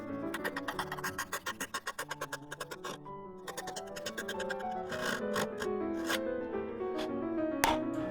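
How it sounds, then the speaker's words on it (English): A Ryoba pull saw cuts a wedge kerf into a wooden hatchet haft with the head fitted on, giving a fast, even run of close rasping strokes that turns into slower, irregular scraping and rubbing. "I'm going to use my Ryoba saw to cut the kerf for the wedge"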